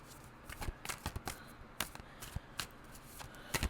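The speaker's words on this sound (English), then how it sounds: "Let's shuffle another card." Tarot cards being shuffled in quick, crisp bursts of riffling and slapping, close by and fairly quiet, with short pauses between.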